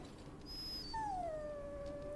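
A dog in the video game Dragon Age: Origins gives a long, drawn-out whimpering whine that rises and then slowly falls, clear and close over a quiet game soundtrack.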